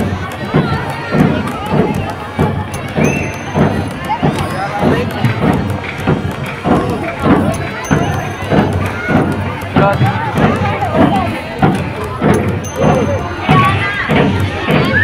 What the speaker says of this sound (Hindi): डेली इसी तरह भीड़ हो जाती है।